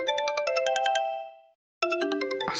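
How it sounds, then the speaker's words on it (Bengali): A mobile phone ringtone plays a rapid, bright repeating electronic melody, then stops briefly and starts again, loud and close with no voices. "ফোনই তো বেজেছে।"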